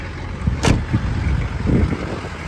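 A 1981 Chevy Caprice Landau Coupe diesel engine idles nearby, a steady rumbling with a constant low drone, a brief click and some faint rattles over it.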